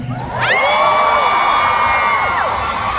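A loud concert crowd erupts in sustained high-pitched screaming and cheering, holding steady for a few seconds before tapering.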